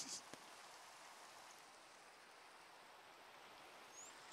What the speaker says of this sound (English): Let's just take a moment to enjoy the rain.